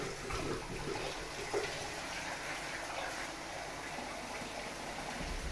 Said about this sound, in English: add a bit more water to that.